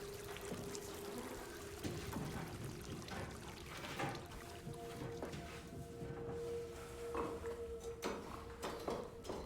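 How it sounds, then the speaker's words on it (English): Water pours and trickles into a flooding underwater facility in the horror game Soma, a steady low rushing flow with intermittent splashes and faint creaks, moderately quiet, no talking. "'Cause, yeah, now there's water coming in."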